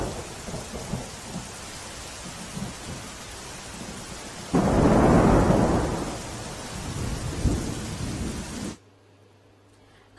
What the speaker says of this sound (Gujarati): કચ્છમાં અવિરત પડી રહેલા વરસાદને કારણે જનજીવન પ્રભાવિત થયું છે